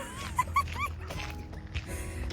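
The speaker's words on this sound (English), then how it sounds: "That is a dog that I want." A dog whimpers and yips in a few short, high, rising whines near the start, over steady low background hum with no talking.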